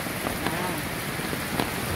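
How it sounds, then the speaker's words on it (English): Steady rain falls on a beach campsite, a dense even hiss of drops pattering on surfaces with no pauses or voices. "It's raining."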